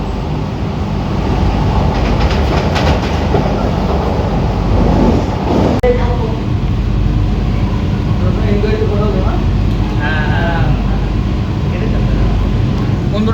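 A Siuri–Sealdah MEMU electric train rumbles along steadily with a low continuous roar and rattling carriages, heard from inside, while someone talks over it.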